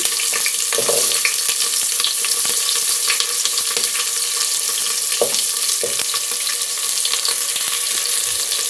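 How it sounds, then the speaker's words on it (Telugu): Sliced onions fry in a pan with biryani spices for egg biryani, a loud continuous sizzle broken by the scrape and clatter of a spoon stirring them. "ఈ ఉల్లిపాయలు బ్రౌన్ కలర్ వచ్చేంత వరకు వేయించుకోవాలి ఇలా కలుపుకుంటూ వేయించుకోవాలి"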